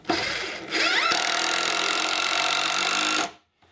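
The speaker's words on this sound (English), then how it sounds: "I'm screwing down a 12-inch wide board, thereabouts" A power drill drives a screw into a roughly 12-inch-wide wooden board for a heavy-duty sawhorse. A brief whir comes first, then one loud, steady high-pitched run of about two seconds that stops abruptly, close up with no talking.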